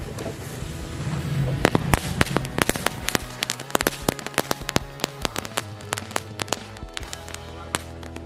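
Many firecrackers go off in rapid irregular succession during a Ramadan afternoon outing, sharp bangs crackling one after another, dense at first and thinning out toward the end.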